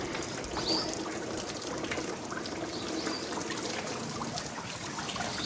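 Water trickles steadily through a running air cooler in a rural home, a constant close splashing wash with no breaks and no voices.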